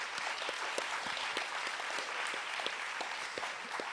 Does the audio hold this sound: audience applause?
yes